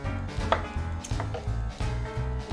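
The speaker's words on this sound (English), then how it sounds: "I'm not going to bore you with me chopping them and all that up" A knife chops peppers on a cutting board in a steady series of quick, close thuds, about seven or eight cuts, with faint kitchen background and no talk.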